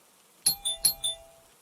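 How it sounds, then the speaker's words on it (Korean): A doorbell rings twice in a quiet indoor setting within a spoken horror story, each press giving a clear two-tone ding-dong chime that fades quickly into silence. "누군가 초인종을 울렸습니다"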